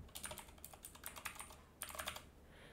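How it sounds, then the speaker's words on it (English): Rapid clicking keystrokes on a computer keyboard, close and steady with a brief pause before another quick burst of typing. "here I'm typing subscribing"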